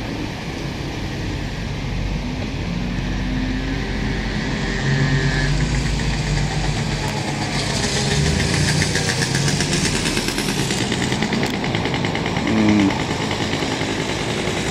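A motorbike engine buzzing along a city boulevard in Laval, Quebec, heard as a steady droning rumble that swells louder midway as the bike passes, over constant traffic and street ambience.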